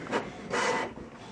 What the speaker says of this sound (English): it is printing the test page